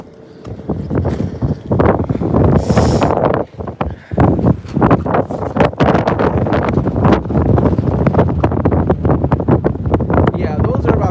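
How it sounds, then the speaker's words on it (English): Strong 30 to 35 mph gusts of a winter storm with heavy snow and ice roar across the microphone in loud, rumbling buffets that rise and dip continuously, with a person talking beneath the wind. "those are about 30 mile an hour, 30, 35 mile an hour gusts."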